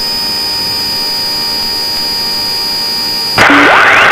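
A Pilatus PC-12 turboprop approaching to land gives a steady engine drone with a high whine, then a sudden louder burst of broadband roar with a rising tone near the end.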